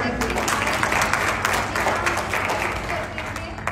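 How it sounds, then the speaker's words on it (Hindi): A crowd at a political gathering breaks into applause, a broad, steady roar of clapping with scattered voices mixed in, fairly loud and sustained. "ताली बजाएं"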